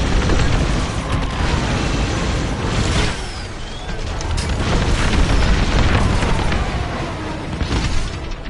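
Starfighter bombers blowing up in Star Wars: Squadrons, with loud rumbling booms layered over a constant roaring engine-and-battle wash that swells and holds for several seconds.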